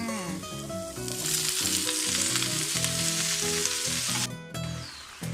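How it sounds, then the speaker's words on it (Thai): Napa cabbage stir-frying in a pan: a loud, close, continuous sizzle and crackle of hot oil, with a brief drop near the end, and no talking. "ผัดผักกาดขาวค่ะ"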